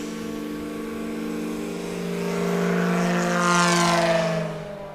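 A propeller airplane fitted with a giant prop flies past at a STOL competition at Patriot Airpark, its loud, steady engine-and-propeller drone swelling slightly as it nears, with no talk over it.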